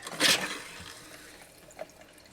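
Camper sink faucet running while the camper is winterized: a short, close gush of water near the start that quickly trails off into faint trickling and a small splash.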